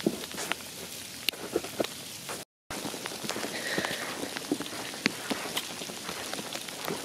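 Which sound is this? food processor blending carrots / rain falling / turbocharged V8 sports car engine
rain falling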